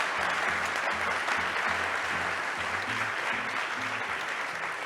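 An investor day audience claps steadily, a dense, even wash of many hands that holds loud across the whole stretch with no voices over it.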